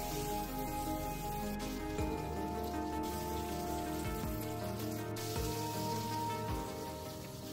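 Cauliflower pieces frying in oil in a kadai over a low-to-medium flame, giving a steady, even sizzling hiss like light rain that holds at one level throughout, close up and with no voices.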